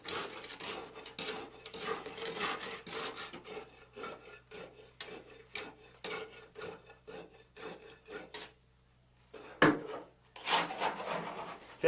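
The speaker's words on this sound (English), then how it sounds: "Rod the layer 25 times, making sure to penetrate into the first layer approximately 1 inch." A steel rod is plunged repeatedly into fresh concrete inside a slump test cone, giving a rapid series of rough, rasping strokes close by, then a pause and a sharp knock before more scraping.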